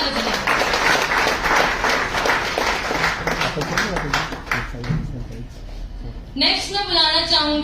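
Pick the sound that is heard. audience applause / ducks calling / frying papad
audience applause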